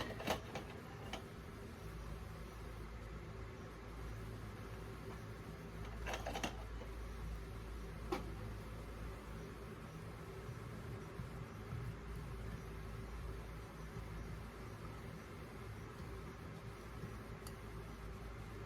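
A spoon stirs Taster's Choice hazelnut-flavored instant coffee in a cup, making faint, steady ticking clinks with a few sharper taps against a quiet background.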